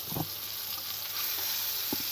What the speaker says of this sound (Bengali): ভেজে নিচ্ছি আমি, এগুলো আমার ভাজা হয়ে গেছে।